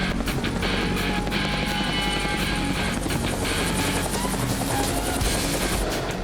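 A helicopter flies low during a filmed shootout scene. Its rotor chop and engine roar stay loud and constant throughout, with a steady pulsing beat and no voices.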